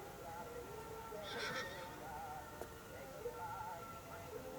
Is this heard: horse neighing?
yes